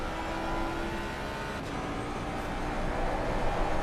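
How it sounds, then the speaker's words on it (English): Ford Mustang GT3 engine in a GT3 racing video game at Bathurst, a steady, continuous drone running throughout at moderate level, with no talking. "I love the sound of that Mustang engine"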